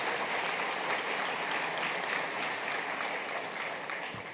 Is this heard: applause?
yes